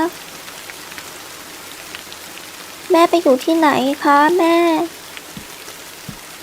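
Rain falls in the horror video game Tsugunohi, a steady soft hiss that runs throughout while a voice speaks briefly midway.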